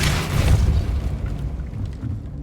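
A Depulso spell cast in Hogwarts Legacy, heard as a loud low-heavy blast that peaks early and then fades into a rumbling tail.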